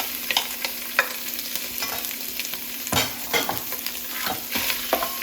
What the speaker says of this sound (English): and stir fry. Stir fry until the surface of the beef